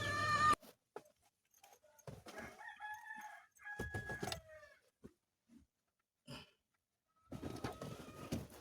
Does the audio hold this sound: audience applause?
no